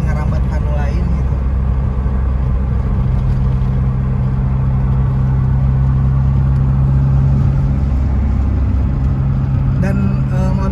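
A 1991 BMW E30 with the M40 engine and 18-inch BBS wheels cruising on a toll road: steady low engine drone and road rumble inside the cabin, with someone talking over it throughout.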